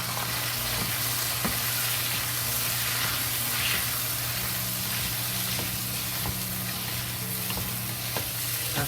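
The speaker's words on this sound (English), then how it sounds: "Stir fry." Fried eggplant stir-fries with soybean paste in a hot pan, giving a continuous, even sizzle with faint scattered clicks of stirring throughout, close and steady, with no talk.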